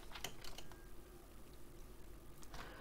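Quiet tapping of a computer keyboard while a CSS selector is typed, with a few soft clustered keystrokes near the start and again near the end over low background hum.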